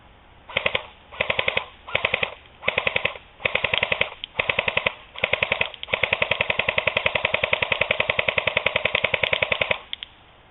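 An Echo 1 Barrett Rec-7 airsoft rifle fired at a target outdoors, several short rapid bursts followed by a long sustained full-auto stream of fast mechanical rattling shots, loud and close with no talking.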